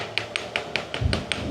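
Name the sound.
tapping a chisel to cut cheese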